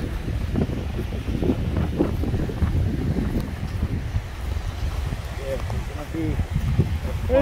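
Strong, steady wind buffets the microphone on a ski trip at Keswick, a continuous low roar and rumble throughout, with voices talking over it.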